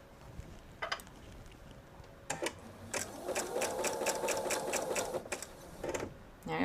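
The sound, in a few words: sewing machine sewing quilt seam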